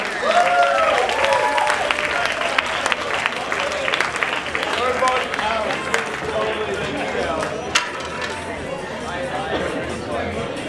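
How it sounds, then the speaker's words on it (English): Show audience clapping in a continuous rush of applause and crowd noise, fairly loud, with voices chattering underneath throughout. "Everybody give a big round of applause for the Townsends"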